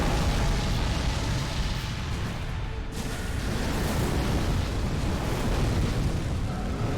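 Boss attack explosions in Dark Souls 3, a sustained roaring rumble of blasts and fiery bursts that stays loud and dense throughout, with a brief dip before the roar resumes.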